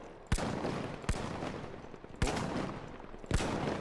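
Four sharp, loud gunshots ring out at uneven intervals in the video game The Finals, each followed by a dense reverberant wash of combat noise.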